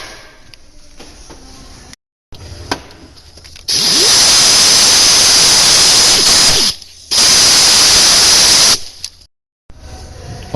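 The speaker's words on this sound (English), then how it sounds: "I'm going to use cookie grinder. Anyway, clean her up." A cookie grinder scours old gasket material off the aluminum water pump surface of a 1992 GMC one ton, two long, loud, hissing grinding bursts with short pauses between them, right up close.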